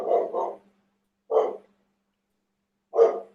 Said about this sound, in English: I might hear the dog